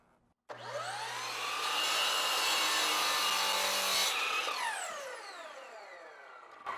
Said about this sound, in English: Now we got our pencil trim on our miter saw.